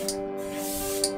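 A spray bottle filled with tap water mists a 1/35 scale Airfix Cromwell Mk IV model tank chassis, giving a steady close hiss with brief pump bursts at the start and end.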